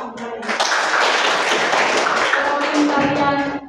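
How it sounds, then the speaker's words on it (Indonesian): A class of students applauds together in a classroom, a dense burst of clapping that swells quickly, holds steady for about three seconds and then tapers off. "Jadi tepuk tangan kalian."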